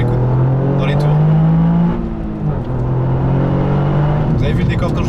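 A Toyota GR Yaris turbo engine pulls hard under acceleration, a loud, steady, close drone with a brief dip in pitch midway before climbing again.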